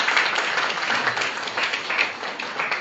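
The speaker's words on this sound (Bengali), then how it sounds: "আপনারা সবাই হাততালি দিয়ে অভিনন্দন জানাবেন।" Audience clapping at a book launch of a literary magazine issue, a brief, even burst of applause from a roomful of people.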